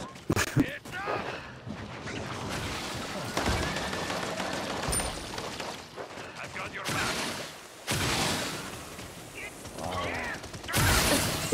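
Rapid gunfire bursts and volleys from the Paladins shooter video game, loud and repeated across the stretch, with players talking over the shooting.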